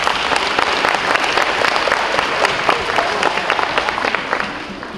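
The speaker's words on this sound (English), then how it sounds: "let's give all the parents and relatives a hand of applause for coming out today" An audience at a school awards event for third and fourth graders applauds parents and relatives with dense, sustained clapping. It runs steadily from a large indoor crowd for the full five seconds.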